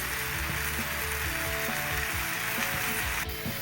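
Chili powder and turmeric powder frying in oil in a pan while making a green apple and date pickle, a continuous close sizzle with rhythmic scraping and stirring clicks, no voices.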